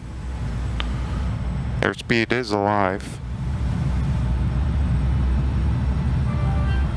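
A steady, broad roar of airliner engines at takeoff power fills a home-cockpit flight simulator on the runway, continuous and unchanging, while someone speaks briefly over it.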